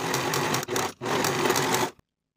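A sewing machine runs in steady bursts while finishing the outer curved edge of a trouser fly facing, with two brief pauses before it stops; close and alone, no voices.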